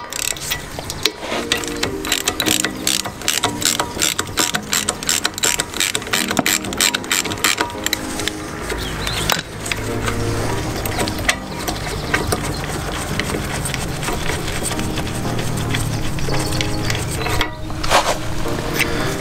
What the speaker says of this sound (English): This one's removed by using a 16mm plug socket.